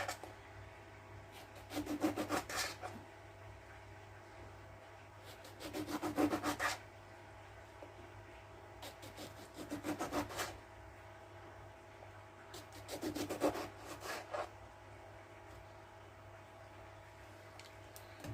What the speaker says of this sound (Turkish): İlk öncelikle portakalımızı alıp dilim dilim keselim.